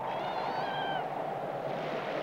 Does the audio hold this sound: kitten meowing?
yes